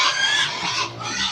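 Pig grunting on a farm, a short close squeal-like grunt with a nasal, strained tone, alone without talk.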